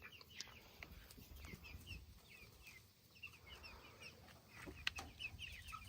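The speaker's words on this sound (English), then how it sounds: "Chickies!" Backyard chickens cluck and murmur in short, scattered calls, fairly quiet and a little distant, against soft outdoor background noise.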